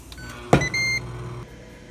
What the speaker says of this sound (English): And I'm going to put it in the air fryer.